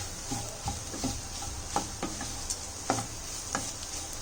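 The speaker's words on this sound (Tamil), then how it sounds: "இப்போ நல்லா ஃப்ரை ஆகிடுச்சு முட்டை உங்களுக்கு" Onion egg fry cooking in a pan, a low steady sizzle broken by a series of sharp scraping and clicking spoon stirs at irregular intervals, close and moderately loud, with no talking.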